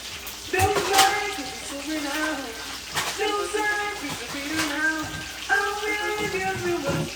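Tap water pours steadily into a sink to soak red snapper in a Jamaican kitchen, a continuous splashing stream with changing tone. A voice talks over it now and then.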